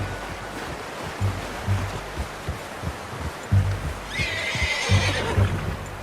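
A horse in the Red Dead Redemption 2 video game neighs loudly and close, with a long whinny near the end over repeated hoof clops and a low, steady outdoor ambience.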